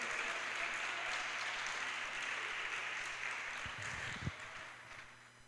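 A church congregation applauds for several seconds in a steady, dense wash of clapping that fills the room and then tapers off, with no speech over it.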